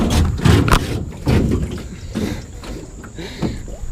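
Rough scraping and grinding bursts as a boat hull drags over creek rocks, several uneven pulses with splashy noise, fairly close.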